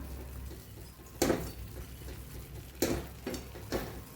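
Coarse wheat flour roasting in ghee for sheero, with a steady low sizzle and three sharp scraping stirs of the spoon across the pan, close and fairly quiet, no talk.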